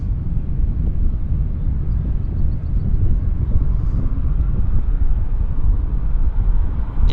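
A Beechcraft King Air medevac turboprop at Vancouver Airport produces a steady low droning rumble, fairly distant and even in level, with no voices present.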